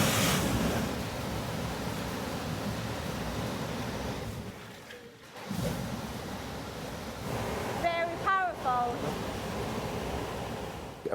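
A Jet Thruster JT94 pump unit for a 50ft sailboat pushes out a strong, close rush of water, a loud hissing flow that dips briefly midway, with a short burst of voice-like chirps near the end.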